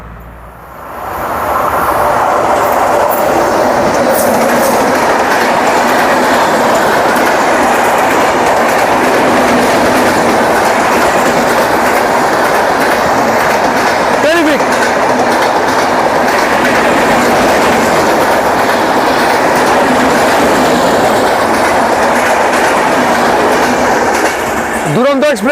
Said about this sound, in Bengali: দুরন্ত এক্সপ্রেস হাওড়া।